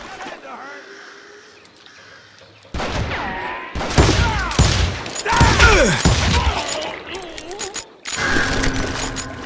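Gunfire from the Western shooter game Call of Juarez Gunslinger, with loud bursts and crashes, plus a voice, which becomes heavier from about 3 seconds onward over continuous game ambience.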